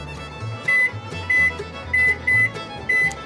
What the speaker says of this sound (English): we want to go ahead and set our timer for 45 minutes